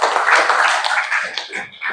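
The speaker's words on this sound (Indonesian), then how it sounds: "Tepuk tangan dulu ya" A classroom of students claps hands together after a teacher's prompt, a dense burst of many small claps that thins out and trails off toward the end.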